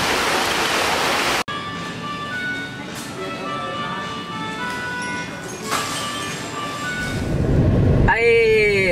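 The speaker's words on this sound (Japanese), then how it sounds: "ひどすぎるこの雨。" Heavy rain pours down during a sudden shower in Okinawa, a dense roaring hiss after a brief cut, with a rising electronic chime toward the end.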